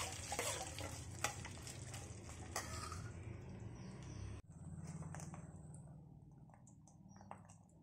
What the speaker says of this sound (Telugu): నువ్వుల నూనె వేసి ఎత్తుకోండి. ఆవాలు, జీలకర్ర, మినపప్పు, శనగపప్పు, ఎండుమిర్చి వేసాను.